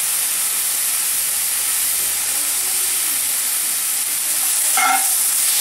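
Thinly sliced carrots and onions sauté in a pan over high flame, giving a loud, steady sizzle and hiss that runs throughout, close up with a brief stir or scrape near the end and no talk.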